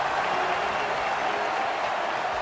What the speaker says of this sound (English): Crowd on their feet saluting their goaltender.